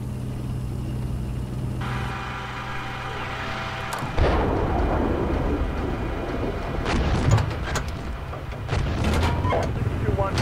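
Incoming fire hits around a tank in the Steel Beasts Pro simulator: after a steady engine hum, sudden heavy impacts and rumbling blasts break out, with several sharp cracks and radio-style voices talking over them.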